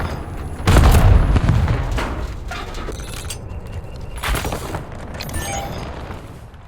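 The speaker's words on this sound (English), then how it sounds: "Hostile grenade!" A hostile grenade goes off in Call of Duty Black Ops 7 multiplayer, one loud broadband boom near the start that decays into scattered distant gunfire and battlefield noise, with a second, smaller blast later.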